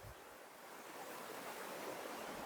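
Three creeks, Mill Creek and Clear Creek among them, join at a historic district property, giving a steady broadband rush of flowing water, loud and continuous with no speech.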